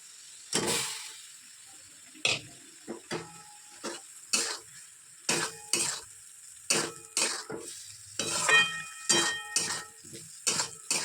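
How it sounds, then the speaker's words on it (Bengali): Cauliflower and potato pieces sautéed on low gas in oil left over from frying rohu fish, with a spatula scraping and tossing in a steady rhythm of short bursts over a soft sizzle; no voices. "ফুলকপি আলুগুলো দিয়ে ভালো করে কষাবো ঢাকা দিয়ে দিয়ে আস্তে আস্তে আস্তে আস্তে গ্যাসটা সিমে করে দিয়ে কষিয়ে নিই"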